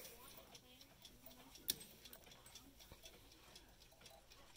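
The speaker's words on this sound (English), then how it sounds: "This is actually a real cuckoo clock." Faint, steady ticking of a small mechanical cuckoo clock, close but very quiet against a low background hush, with an occasional sharper tick standing out.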